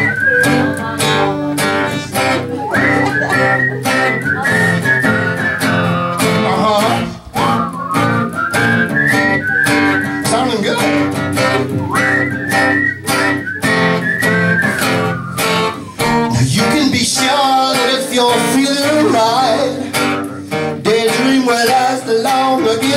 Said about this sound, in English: Everybody whistle.